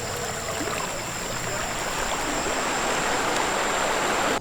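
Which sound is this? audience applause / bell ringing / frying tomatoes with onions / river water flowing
river water flowing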